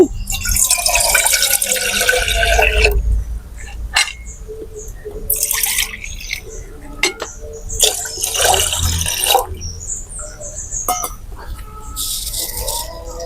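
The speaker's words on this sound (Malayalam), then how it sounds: "ഒരു പാത്രത്തിൽ കുറച്ച് വെള്ളം ഒഴിച്ചു കൊടുക്കുക" Water poured into a pot for a monsoon-season vegetable soup, coming in several separate splashing bursts with quiet gaps between, close and fairly loud, with faint clinks.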